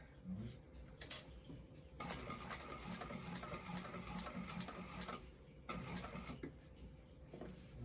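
A sewing machine stitches a bag in two bursts of rapid, even mechanical chatter, separated by a pause and with brief clicks before and after, close but fairly quiet.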